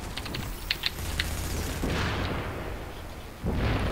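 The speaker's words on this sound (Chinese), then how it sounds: "有机枪塔，先打机枪塔。" Machine gun turret fire in the video game The Division, a few sharp bursts of shots early on followed by a rumbling, washy stretch of battle noise, with no voices heard.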